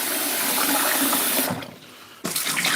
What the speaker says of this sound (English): I'm just going to get a bit of rinse anyway now, because the best thing to do is just give it a bit of a rinse